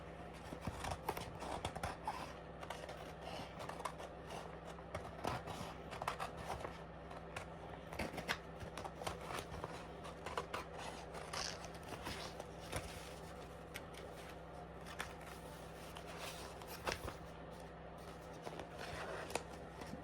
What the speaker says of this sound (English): I'm going to go ahead and cut out my transfer.